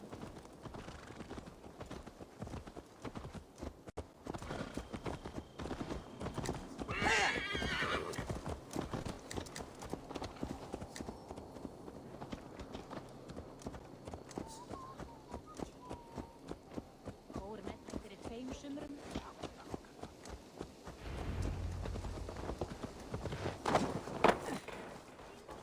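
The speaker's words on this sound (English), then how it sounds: "Let's return the horse" Horse hooves clip-clop at a walking pace alongside a horse's whinny in Assassin's Creed Valhalla, with game ambience and occasional voices around them.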